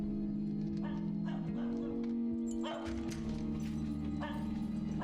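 A dog barks in a Better Call Saul scene, with faint repeated yaps and barks over a low tonal background and some talking.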